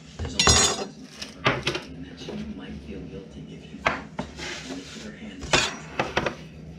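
A really sharp kitchen knife slices across the top of a loaf of bread on a tray, giving several crisp scraping and clattering strokes close by, with the cook's voice in between.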